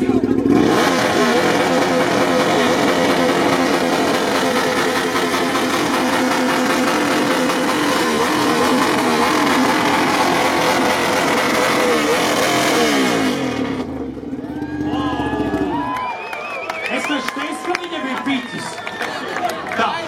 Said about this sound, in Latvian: nu rādi, kas kā tavs mocīt, cik var izspies